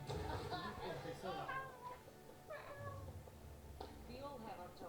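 A cat meows repeatedly in a noisy room, several drawn-out, wavering cries that rise and fall, heard alongside constant background game sound.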